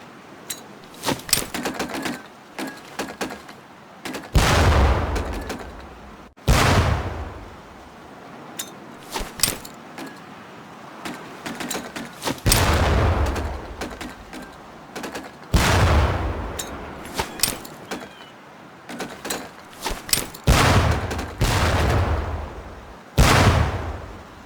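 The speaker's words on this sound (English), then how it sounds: "Pull the pin and let them fly. See if you can hit some of those barrels out there." Training grenades in Medal of Honor: Pacific Assault go off near barrels on a boot-camp range, heard as a series of loud, booming blasts every few seconds, each with a sharp crack and a rumbling tail, amid clicks and rattles.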